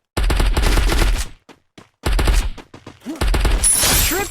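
Bursts of automatic gunfire from a shooter video game during a squad match, loud rapid volleys in two long stretches separated by a short lull with scattered single shots, with a few faint game sounds near the end.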